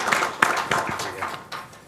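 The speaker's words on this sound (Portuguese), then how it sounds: "Ricardo Monteiro também pedia uma salva de palmas" Scattered clapping from an audience at a round-table panel discussion, with a few distinct sharp claps heard amid ongoing voices.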